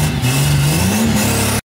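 A Chevrolet Opala fitted with a Silverado engine revs loudly up close, the engine note rising and falling before it cuts off abruptly.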